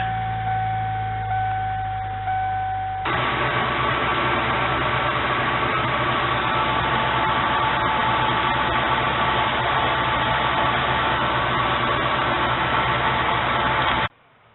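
A Ford Econoline 6.8 V10 engine idles after an oil change, a steady, fairly loud rumble with a brief start-up shift near the beginning, running unbroken until cut off.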